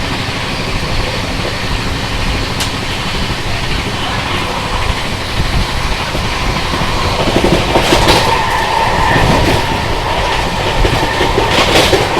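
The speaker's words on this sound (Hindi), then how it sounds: "मावोदी एक्सप्रेस भाई साहब क्या रफ्तार में भाग रही है" The Mahabodhi Express running at speed, a loud continuous rumble of rolling wagons with clickety-clack of wheels over rail joints, growing slightly louder toward the end.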